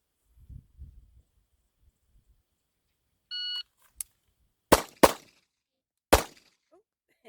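Three sharp, loud pistol shots from a Kimber Pro Carry 2 in .45ACP fired in quick succession, the last after a short pause, preceded by a brief electronic beep and faint handling noise.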